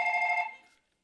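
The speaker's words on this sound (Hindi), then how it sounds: "ओ ब्रो मेरा फोन आए।" Phone ringing on a comedy show stage: one short, close electronic ring tone that holds briefly, then fades out within a second, with no speech over it.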